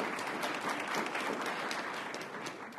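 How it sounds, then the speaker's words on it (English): An audience at an international conference on the right to public information breaks into sustained applause, dense even clapping from many hands filling the hall, steady and fairly distant with no speech over it. "It's interesting that that's the first applause I've had."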